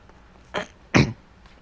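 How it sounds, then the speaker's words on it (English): Two short, forceful throat clearings in quick succession, close by, with a quiet pause between them and no speech. "Gotta clear my throat"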